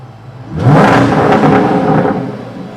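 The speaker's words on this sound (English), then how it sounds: "That is one of the loudest engines I've ever heard." A Land Rover Defender engine revs hard and loud, a sustained close roar that swells quickly, holds for over a second, then eases off slightly toward the end.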